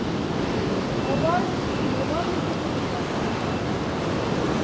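Sea waves breaking on the shore at Paphos on a windy day, heard as a loud, continuous roaring wash of surf mixed with gusting wind against the microphone.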